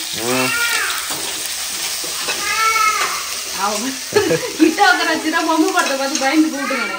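Ginger garlic paste and curry leaves sauté in hot oil with a steady sizzling and stirring, while meow-like harmonic calls rise over it through much of the clip.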